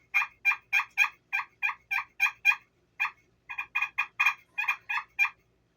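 Hollerback game call blown to imitate a wild turkey's gobble, producing a string of loud, rapid, rattling gobble bursts with one brief pause partway through, close up and with no talking.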